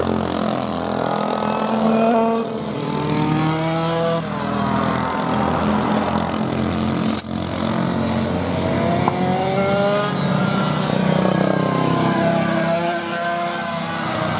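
Racing karts in a club session lap a circuit, their small engines buzzing and rising in pitch as they accelerate and pass close by, with several overlapping engine notes throughout.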